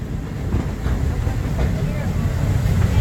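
A Walt Disney World park railroad train rolls through a steady low rumble with faint rail clatter, loud and continuous, while a voice talks over it.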